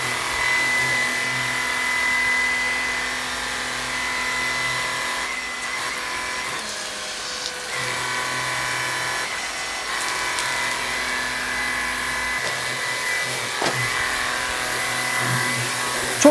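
An HPT cordless high-pressure washer rinses foam off a car, its motor whining at a steady pitch under a constant hissing spray that dips and surges slightly over a long stretch.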